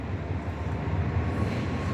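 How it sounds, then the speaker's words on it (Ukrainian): A route 1 tram rumbles past steadily nearby on Kopernyka Street in Lviv, a continuous low rolling drone without speech. "Проїжджає трамвай першого маршруту 1186 в напрямку залізничного вокзалу міста Львова"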